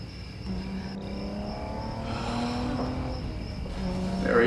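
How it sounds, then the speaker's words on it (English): A car engine rumbles and slowly grows louder as the vehicle approaches, with a steady hum and a rising surge near the end. "I know the sound of his car"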